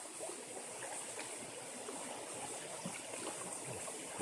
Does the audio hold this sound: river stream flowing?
yes